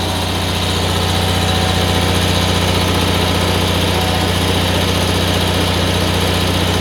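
An Onan generator running on propane drones steadily and loudly at close range, a smooth, even engine hum with constant vibration throughout and no talking.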